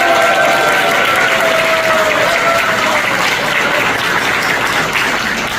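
Elderly audience applauding young academy members at a Korean youth leaders' academy launch ceremony, a loud, dense, sustained wash of clapping that fills the whole stretch, with a faint tone drifting underneath.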